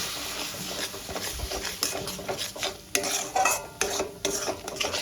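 Rui fish masala with yogurt and cashew paste being stirred and sautéed in a pan over a low flame, with repeated utensil scrapes and clinks in an irregular rhythm over a soft sizzle, close and moderately loud, no talking.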